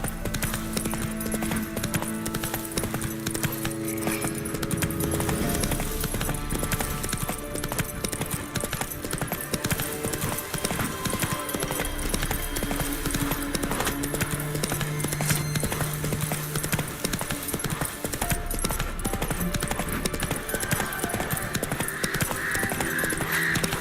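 Roach, the horse in The Witcher 3 video game, gallops with a rapid, continuous drumming of hooves, loud and close throughout, while background game sounds and birds caw faintly.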